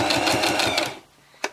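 A sewing machine runs a quick back-and-forth stitch to tack a ribbon onto a fabric sleeve bag organizer, giving a rapid, pulsing whir for about a second before stopping with a small click.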